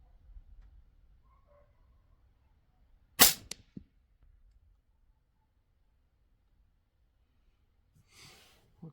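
A custom Howa 1500 mini rifle fires a single subsonic 300 Blackout round: one sharp crack with a brief follow-up tap in an otherwise quiet outdoor setting, then a faint rustle near the end.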